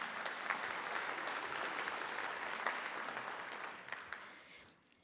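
Audience applause at a philanthropy gathering, sustained even clapping from a large room that stays steady before fading out at the close.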